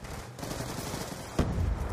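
Sustained automatic fire from a sentry gun in the Black Ops video game, a dense continuous rattle that grows louder and heavier partway through, with no talking over it.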